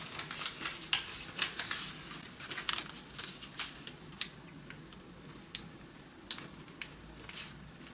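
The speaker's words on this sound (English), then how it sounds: "you'll fold this edge to this line" Origami paper being creased and folded, a run of soft crisp crinkles and light taps close by, irregular and fairly quiet.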